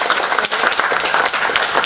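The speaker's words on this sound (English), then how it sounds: "So a round of applause" An audience at a climate science masterclass gives a round of applause, dense and continuous clapping close by that holds steady for the whole stretch.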